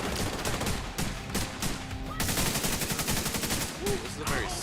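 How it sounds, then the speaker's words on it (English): Repeated gunfire from a slow-firing rifle in the video game The Division, loud, dense shots running through the whole stretch amid busy combat noise, with no talking. "This is a very slow firing rifle"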